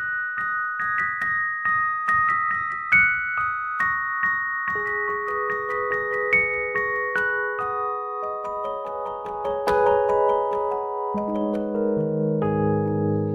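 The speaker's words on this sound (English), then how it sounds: "it almost sounds like a glockenspiel. It's got that delicate bell sound." Westwood electric piano plays a slow run of clear, sustained notes with a delicate bell-like shimmer like a glockenspiel, moving gradually lower in pitch and ringing out alone at moderate volume.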